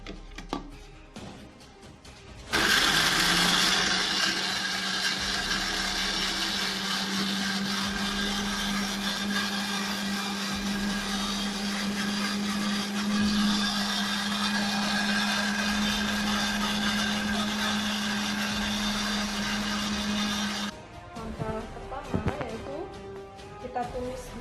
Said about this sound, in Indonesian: Langkah pertama yaitu kita blender bumbunya.